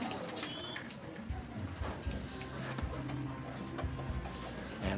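Pigeons coo softly and steadily in a loft, a low murmur from several birds close by, with light rustling and faint ticking around them.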